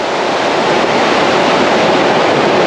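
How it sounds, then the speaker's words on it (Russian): Sea waves break and wash onto a beach near the village of Nikita in Crimea, a loud continuous roar of surf close to the microphone with some wind buffeting. "ой, какая волна идет"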